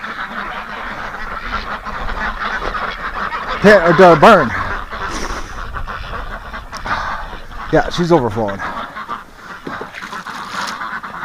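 Ducks in a barn on a frigid winter farm break into two loud bursts of honking quacks, the first a rapid chattering flurry and the second shorter, while a person talks nearby between them.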